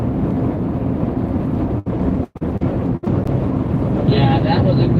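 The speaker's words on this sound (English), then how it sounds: "Yeah, that was a good wind gust." Strong wind gust battering a storm-chasing vehicle on the road during a severe weather outbreak between the Texas Panhandle and North Texas: a loud, continuous broadband roar with a few abrupt buffeting dropouts, and no voices.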